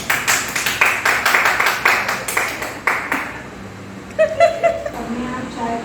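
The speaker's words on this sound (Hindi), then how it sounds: "भाई अगर तालियां बजाओ।" A small group claps hands together in a sharp, rhythmic burst of close claps for a few seconds, then the clapping fades out as talk takes over.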